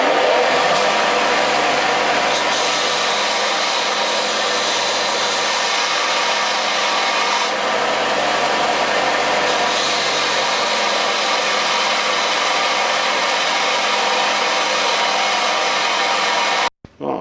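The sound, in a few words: sander and grinding wheel grinding down a vice part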